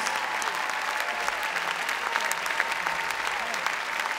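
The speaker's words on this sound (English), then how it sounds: "Applause, please" Audience applause at a ballroom dance championship in the Royal Albert Hall, a sustained, even wash of many hands clapping throughout with faint crowd murmur beneath.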